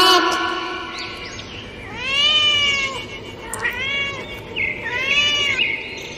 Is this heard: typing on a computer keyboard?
no